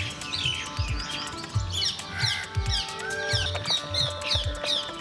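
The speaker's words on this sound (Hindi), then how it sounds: "आबो हवा शुद्ध हुई तो स्थानीय पक्षियों की चहचहाट भी फिर से सुनाई देने लगी है।" Local birds in Jaipur chirp and tweet in dense, overlapping calls, with several birds close together. Low rhythmic thumps from animals can be heard beneath them, and there is no speech.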